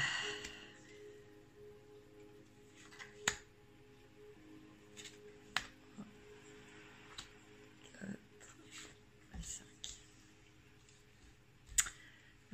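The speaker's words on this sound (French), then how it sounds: "Alors, je vais tirer 5 cartes." Tarot cards being drawn from a deck one at a time: faint, sparse snaps and light clicks of card stock against a quiet background.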